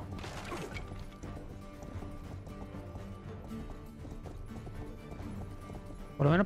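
A horse gallops in the fantasy video game Yet Another Fantasy Title, with rhythmic clip-clop hoofbeats running steadily and fairly close, and a louder burst at the very end.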